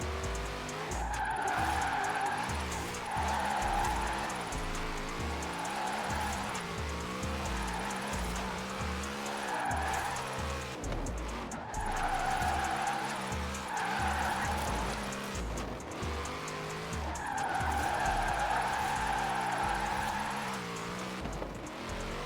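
Cars drift in Forza Horizon 4 on the Fortune Island switchbacks, tyres squealing in long sustained skids over a loud, steady engine drone, close and continuous across several extended slides.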